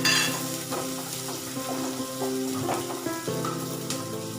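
Small diced onion fries on high to medium heat in a pan, a loud, close, steady sizzle with spatula stirring and scraping running through it.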